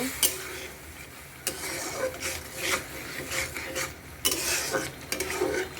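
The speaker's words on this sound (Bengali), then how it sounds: "আলুটা দিয়ে নিচ্ছি। আলুটা একটু কষিয়ে নেব।" Potatoes fry in oil while a spatula stirs them, producing repeated scraping strokes against the pan over a low sizzle, with louder bursts of stirring near the start and toward the end.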